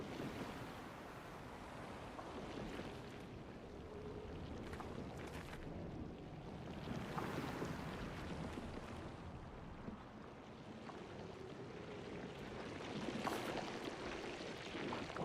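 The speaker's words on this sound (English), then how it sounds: "There's definitely like sloshing liquid" Sloshing liquid, water or paint, in a video game: a steady broadband wash like lapping surf runs throughout with gentle swells and faint splashes, moderately loud and unbroken, with no talking.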